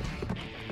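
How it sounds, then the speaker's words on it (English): Horse hooves clip-clop in the video game Sonic and the Black Knight as quick, quiet rhythmic thuds under game sound, lasting under a second. "Why is it so hard to catch up to this horse?"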